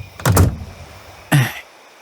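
A door shuts in two distinct thuds about a second apart, fairly close and clear, in a quiet room with no voices.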